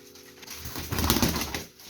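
At the coop, a pigeon gives a short, soft coo that swells in the middle and then fades, with no talk over it.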